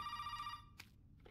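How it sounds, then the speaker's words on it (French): A telephone rings in Resident Evil 7, a bright electronic trill lasting about half a second before cutting off, followed by a couple of faint clicks against a low quiet background. "Téléphone."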